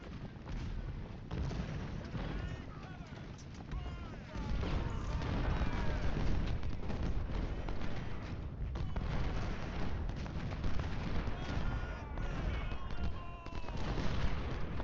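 Musket and artillery fire in Ultimate General: Civil War at the Battle of Bull Run, a dense rolling crackle of distant shots and booms layered continuously, moderately loud with no clear break.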